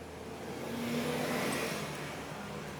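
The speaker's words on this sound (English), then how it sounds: "every car possible passing by" Steady, broad roar of traffic passing close by outside, swelling slightly in the middle as a car goes past and then easing back, with no voices over it.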